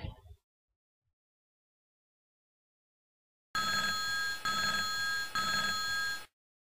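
A telephone rings three times in quick succession, with a bright electronic trill in each burst. The rings follow a brief moment of silence and come before a prank call.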